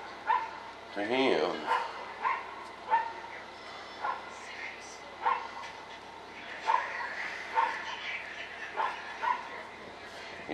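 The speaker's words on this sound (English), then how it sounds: "But it just sits there and barks." A hunting dog left in a neighbouring yard barks in a steady rhythm, about once a second, from a moderate distance. Someone talks over the barking.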